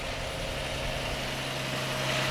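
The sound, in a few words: engine of restored vintage tractor in parade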